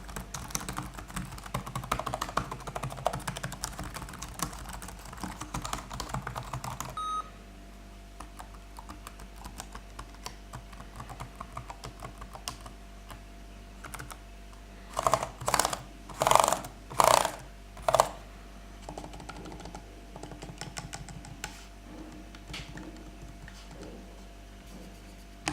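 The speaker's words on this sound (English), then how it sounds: "Next on is the keyboard sound test." Bursts of quick typing on a ThinkPad 13 (2017) laptop keyboard, clicky keys pressed in rapid runs with a few louder clusters midway, over a faint steady fan hum.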